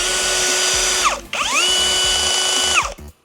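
A power drill with a 3.3 mm bit bores through a metal hinge, whining loudly at high speed in two bursts, dipping briefly between them and winding down near the end.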